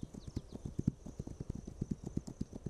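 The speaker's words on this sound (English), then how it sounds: "Okay, this horse needs to go a little bit faster, though." A horse galloping in the video game This Land Is My Land, a steady run of hoof clip-clops at a fast even rhythm, fairly close and clear, with no talk over it.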